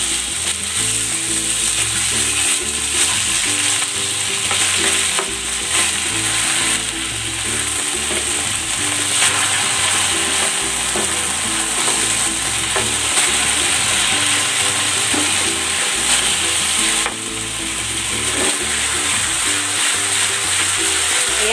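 Beef is stir-fried in hot cooking oil with garlic for a beef and bitter melon dish, giving a loud, continuous sizzle with scraping stirring noises over background music.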